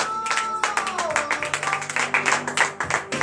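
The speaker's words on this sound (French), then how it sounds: "je vous demande d'applaudir très fort" A prayer service congregation claps in steady, loud rhythmic strokes, alone at first, with a voice carrying over the clapping.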